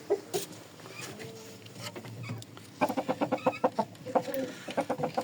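Roosters and hens cluck on a farm in quick repeated bursts, fairly close, growing busier and more rhythmic in the second half.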